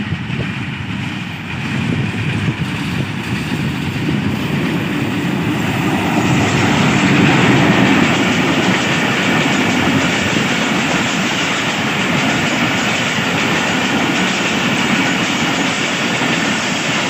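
The Thal Express passes by, hauled by HBU-20 Tiger diesel locomotives, bringing a loud, steady roar of rolling carriages with rhythmic wheel clatter that builds and holds close for the whole stretch.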